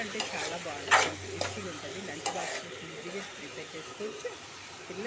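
Cabbage and half-boiled raw chana dal curry is stirred in a frying pan, a low steady sizzle broken by a few scraping spoon strokes, quiet and close, with a voice speaking faintly alongside.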